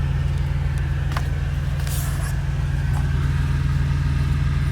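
Cars and trucks crawl through a snowstorm on a 7%, five-mile-long hill in West Virginia, giving a steady low engine rumble close by that holds evenly throughout, with no talking.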